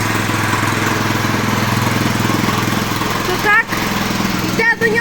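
Small motor cultivator engine running steadily nearby, a loud continuous buzzing drone with even rhythm throughout, briefly dipping twice near the end as the throttle shifts.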